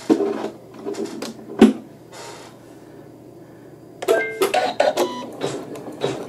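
A sewing machine runs slowly while stitching a zigzag on a bib, with soft intermittent whirring and clicks, a sharp knock near the start, and a busier clattering stretch toward the end.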